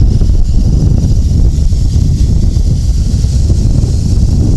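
Strong wind buffets the microphone as a Hubsan X4 H501s drone hovers outdoors, producing a loud, continuous low rumble with no voices.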